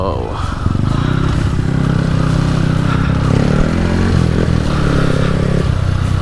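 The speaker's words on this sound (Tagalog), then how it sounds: "andito yung motor ni Roda." A motorcycle runs loud and close along a mountain backdoor trail, with a steady engine drone, rattling and scraping over rough ground, and people talking now and then.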